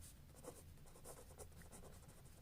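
Pen strokes scratch on paper while a geometry solution on triangles and the Pythagoras property is written out, soft, close and quiet, with short rhythmic scribbles and brief pauses between them.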